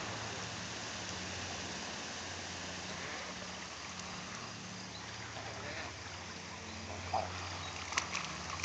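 Garden sprinkler spraying water over chickens outdoors, a steady broad hiss of falling water that runs unbroken and fairly faint, with a few small clicks near the end.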